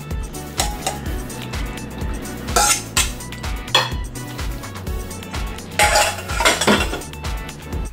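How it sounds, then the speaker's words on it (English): Rigatoni pasta with ground beef and Prego spaghetti sauce is served onto a plate, with a metal utensil repeatedly scraping and clinking against a pot and dish in steady, close bursts. "now I'm gonna serve the rigatoni pasta with the delicious ground beef"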